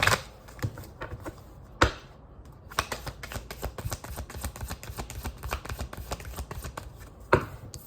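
Tarot cards are shuffled by hand in a quiet room, making a run of crisp riffling and snapping clicks with a few sharper slaps of the deck. The sound is close and fairly soft, with no talking.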